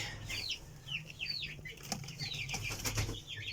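Pigeons in a pen flap their wings in soft, quick flurries, faint and close, with thin high chirps from birds scattered around them.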